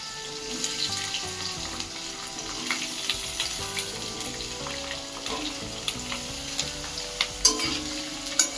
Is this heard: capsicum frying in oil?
yes